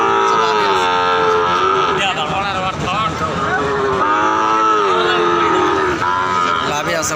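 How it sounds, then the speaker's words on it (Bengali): Cattle at a cattle market calling out in long, loud, close moos that rise and fall one after another, over a busy background where people can be heard talking. "অনেক সুন্দর মাপের গরু এগুলো আর কি।"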